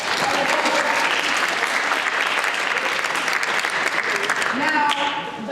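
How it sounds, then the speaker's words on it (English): A school audience bursts into loud, sustained applause, a dense wash of many hands clapping close by, with a few voices mixed in near the end. "Let's give a round of applause"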